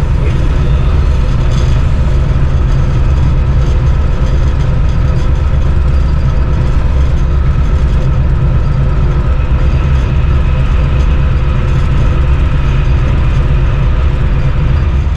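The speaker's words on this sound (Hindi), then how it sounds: "तो दोस्तों ट्रेन हमारी बढ़ रही है आहिस्ता आहिस्ता" A train rolls slowly through Bolan Pass toward Mach railway station, a loud, steady low rumble of engine and wagons droning continuously with no break or talk.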